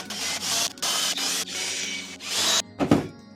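Power drill boring through a Boba Fett gauntlet piece, several loud bursts of whirring with short pauses between, ending in a brief clatter.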